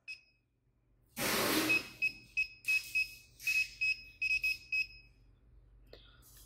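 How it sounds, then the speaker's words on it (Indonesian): A faint hum gives way to a burst of hiss, followed by a series of short, high electronic beeps from a CODY T12MAX soldering station buzzer in an uneven rhythm, some in quick pairs. "jika Anda mengatur suhu ataupun mengatur mode akan terdengar suara tit seperti ini"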